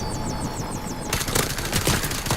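Rapid automatic gunfire from a Nintendo Switch VR shooting game bursts in after a second of warbling synthetic tones, loud, dense and close, with no talk.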